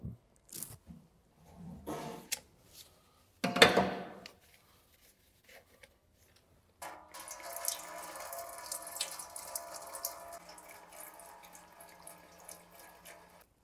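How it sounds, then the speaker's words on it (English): Transmission oil runs from the pan of an Audi S-Tronic 7-speed automatic gearbox, a steady trickling pour following a few scattered clanks and handling noises. "we can proceed to begin draining the oil."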